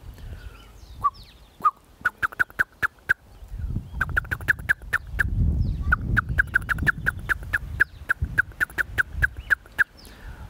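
Blackbirds give sharp, shrill alarm calls at an approaching cat, ringing out in rapid repeated bursts that cluster into quick chattering series, with a low rumbling background between them.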